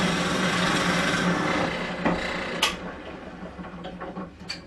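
A drill press bores one hole after another, a steady grinding whir of the bit cutting the workpiece followed by sharper scraping clicks as parts are swapped, close and fairly loud.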